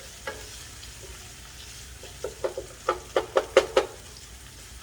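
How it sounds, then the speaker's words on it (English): Shallot, ginger, garlic and shiitake mushroom stir-frying over medium-low heat for Taiwanese braised pork rice, a steady soft sizzle broken by a quickening run of sharp spatula scrapes and clacks against the pan, close and alone. "Shallot, ginger, garlic, and shiitake mushroom. Medium heat or medium low. We want to stir a few minutes to extract and bring out the flavor."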